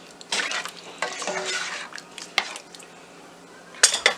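Sambar being stirred in a pot after salt and water go in with the vegetables, with clinks of a spoon against metal and scraping strokes over a soft simmer, close and without talk.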